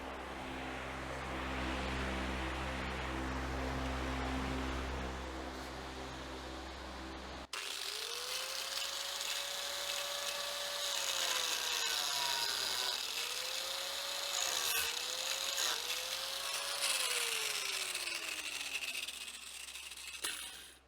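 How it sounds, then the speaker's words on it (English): Angle grinder cutting into a 40-year-old tractor tire: after several seconds of steady low hum, a close, loud motor whine starts and repeatedly climbs and sags in pitch as it bites, running steadily to the end. "Let's try to angle grind it."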